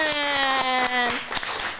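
Brief applause greets a guest welcomed at an Indonesian community gathering, scattered claps running under a sustained sung or tonal voice that dominates the short stretch.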